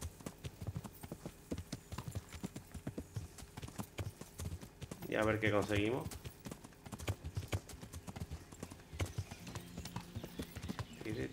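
Horse hooves clip-clop in the medieval game Kingdom Come: Deliverance, a steady rhythmic clatter running through most of the clip beneath someone talking, with a brief louder burst near the middle.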